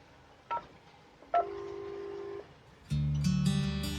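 A short beep, then a longer held tone, followed by a loud, steady dual-pitch telephone tone, like DTMF keypad dialing of an extension on a Panasonic KX-TES824 PABX phone system.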